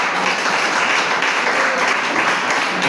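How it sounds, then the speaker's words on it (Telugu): A congregation in a church claps loudly, a dense, steady wash of applause from many hands that holds without pause throughout. "చప్పట్లు కొడతారు గట్టిగా."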